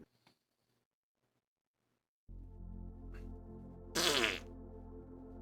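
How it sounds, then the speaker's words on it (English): A fart blown into a gaming headset microphone during an online tabletop session. It comes as one loud, brief, buzzy burst partway through, over a steady low hum, with a faint click before it. "Fart into the microphone"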